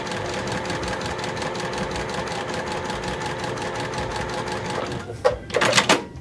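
Sewing machine stitching a seam in a beginner layer cake quilt, a fast steady mechanical chatter close by that runs evenly, then stops and gives way to a few louder handling rustles at the end.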